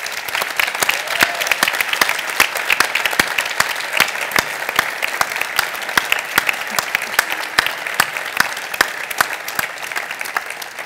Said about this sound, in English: please give us another big warm applause to all the sponsors that we have this year